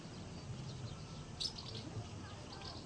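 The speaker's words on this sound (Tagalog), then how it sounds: "May mga ibon-ibon." Outdoor birds chirp faintly in a few scattered, brief calls over a quiet background.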